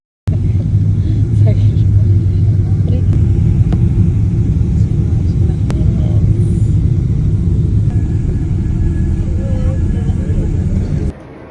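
Cabin of a passenger airplane landing at Clark Airport: a loud, steady low roar of engines and airflow fills the space continuously, ending with a sudden drop in level near the close.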